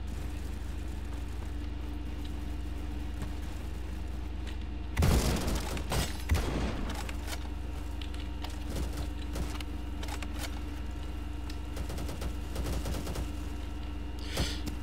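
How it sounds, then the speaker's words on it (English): Bullpup sniper rifle in the game Bad Business fires a loud shot around the five-second mark, with further scattered shots and impacts over a constant low game hum. "Huh, a bullpup sniper rifle."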